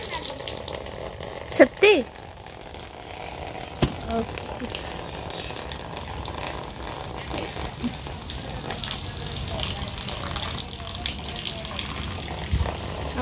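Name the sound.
washing soaked T-shirts with water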